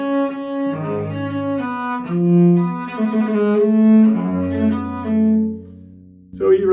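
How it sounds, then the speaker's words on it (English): A cello plays chords broken into arpeggios that start on the top note and move down to the bass, with bowed notes flowing smoothly at a moderate pace. It sounds loud and close, with no talking. "if I sort of reverse engineer the violin version to the cello, it sounds like this."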